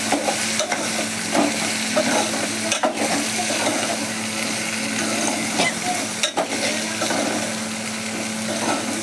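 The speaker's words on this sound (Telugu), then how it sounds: "ఇప్పుడు మనం ఉడికించి పెట్టుకున్నటువంటి ఆలుగడ్డ ముక్కలను వేసుకుందాం. కలుపుదామండి." Boiled potato pieces fry in a pan and are stirred, a loud continuous sizzle broken by repeated scraping strokes and a few sharp utensil knocks; no voices.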